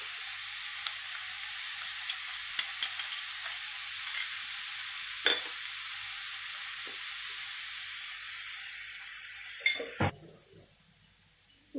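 Crumbled paneer goes into a hot frying pan, bringing a bright, steady sizzle with scattered light clinks of utensil on metal, then a sharper knock before the frying fades to near quiet.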